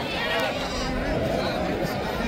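Goats bleat at a busy weekly sheep and goat market in Haveri, Karnataka, several wavering calls rising over a dense crowd murmur and chatter, close and fairly loud.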